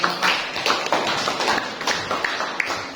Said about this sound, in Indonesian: Berikan dulu aplaus untuk kelompok 4